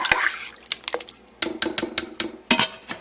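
Utensil scraping and clinking against a frying pan on the stove while beef stew is stirred: a run of sharp metallic taps and scrapes, close and fairly quiet.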